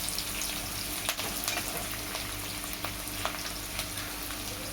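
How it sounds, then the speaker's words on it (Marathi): Garlic fries in oil in a pan until reddish, giving a steady, close sizzle with scattered small pops and faint stirring scrapes throughout. "लालसर रंगावरती लसूण परतून घ्यायचा आहे छानपैकी"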